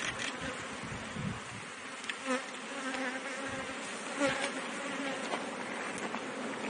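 Honeybees buzzing around an open hive, a steady soft drone of many insects with occasional louder passes of single bees close by.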